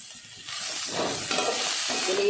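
Egg noodles fry in a pan with a steady, close sizzle and hiss that swells as they are stirred, with light scraping and clinks throughout and no voice.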